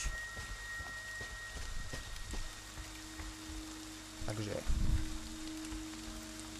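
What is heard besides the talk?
rain in the video game Friday the 13th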